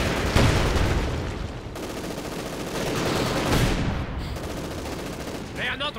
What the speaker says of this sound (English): Stug Sturmgeschütz continuing to bombard.